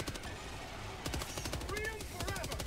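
Strafing-run air strike gunfire in the co-op shooter Helldivers 2, quick rattling bursts of rapid shots in faint clusters with short gaps, under a muffled voice.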